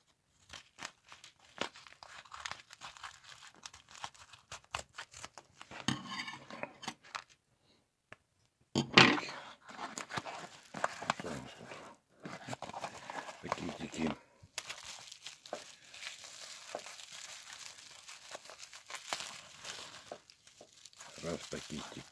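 Packets of Bluetooth modules from AliExpress being torn open and unwrapped, with scattered close crinkling and rustling of plastic wrap in bursts and pauses, mixed with someone talking.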